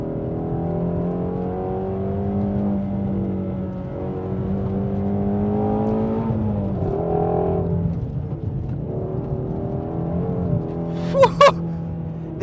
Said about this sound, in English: The noises this car makes all the time, it's way more intense than the GT500 is.